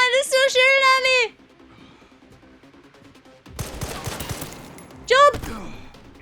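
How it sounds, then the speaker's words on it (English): Enemy gunfire in Resident Evil Requiem comes as a burst of rapid shots partway through, sandwiched between loud shouted vocal outbursts and a quieter lull. "They're still shooting at me!"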